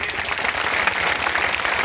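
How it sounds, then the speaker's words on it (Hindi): Audience applause at a political rally for a chariot-yatra campaign in Sant Kabir Nagar, a dense steady clapping that holds at even loudness for the whole two seconds with no voices over it. "आप लोग ताली बजा के इनका स्वागत करिए।"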